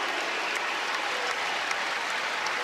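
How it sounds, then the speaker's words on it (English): Sustained crowd applause fills a basketball arena during a Kansas State vs Kansas game as players leave the court, a steady dense clapping wash with no talk. "Big round of applause."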